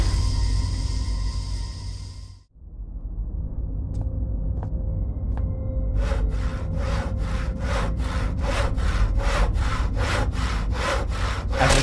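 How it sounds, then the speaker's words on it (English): Steady rhythmic sawing through wood boarding a door in the game Penumbra, about a dozen even back-and-forth strokes, loud and close over a low droning ambience, preceded by a brief sustained tone. "After sawing the wood off the door"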